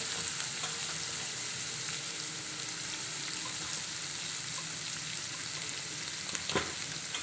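Spice masala roasting in a pan produces a continuous dense hiss, steady and even throughout, with only a faint clink near the end.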